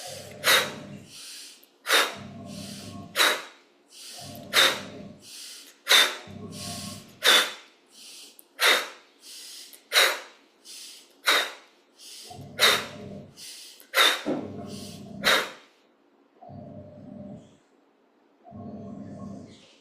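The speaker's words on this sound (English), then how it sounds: "Active inhalation through the nose, active exhalation through the mouth." Forceful pranayama breathing during an Ashtanga yoga practice, with sharp nasal inhalations and strong exhalations through the mouth in a steady, close rhythm of about a dozen paired breaths, alone with no talk.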